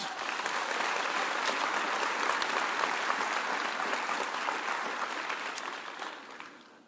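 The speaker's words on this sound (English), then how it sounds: "Please give yourself a round of applause" Graduating class and audience applauding at a 2022 spring commencement ceremony, a broad, sustained roar of many hands from a large crowd that tapers off near the end.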